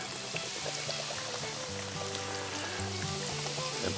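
Beer poured over corned beef and cabbage in a cast iron pan, giving a steady hiss and sizzle of liquid hitting the hot metal, continuous and close.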